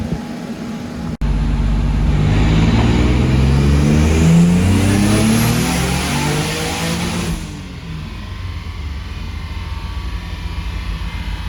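A VQ35DE-swapped 300ZX making about 500 horsepower revs hard through a pull, its loud engine note sweeping upward for several seconds and then easing back to a steady, quieter drone.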